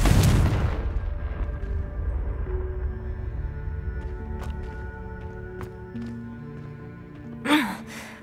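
A Confringo explosion spell from a Harry Potter video game opens with a loud, deep boom that fades into a low rumble, followed by a few faint clicks and a short burst near the end.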